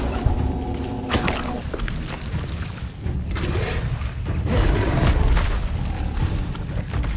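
A Confringo spell explodes in the video game Hogwarts Legacy, with deep booming blasts and whooshing bursts layered in a dense, continuous wash of loud game noise.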